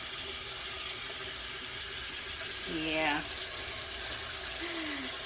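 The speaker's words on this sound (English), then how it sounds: "I rinse all that soap out" Tap water runs steadily into a sink while soap is rinsed out of a brush, a continuous hiss of flowing water with a brief swell partway through and a voice speaking a word over it.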